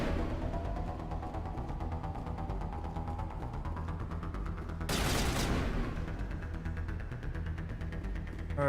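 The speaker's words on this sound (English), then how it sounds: "Shooting." Gunfire in the video game Mass Effect Legendary Edition on PS5, rapid rhythmic shots over a steady hum, with a loud burst of noise in the middle.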